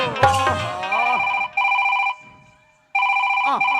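A mobile phone rings with a repeating electronic tone in bursts, a short pause midway, then resumes loudly, with a voice briefly heard at the start, during a Chhattisgarhi nacha comedy stage performance.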